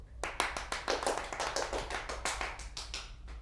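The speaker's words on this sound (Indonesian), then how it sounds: "Beri tepuk tangan yang meriah" Fairly faint, steady clapping from an audience at a school journalism class at SMK Negeri 7 Palembang, a run of quick, overlapping claps with no speech.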